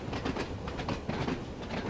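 In the Train Sim World 2 game, an Isle of Wight shuttle train runs along its track with a steady, close rumble and rhythmic clickety-clack from the wheels over rail joints; no one speaks.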